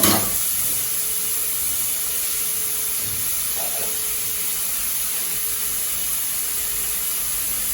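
A steady, even sizzle of onions frying in a hot pan, close and continuous throughout, with no talking.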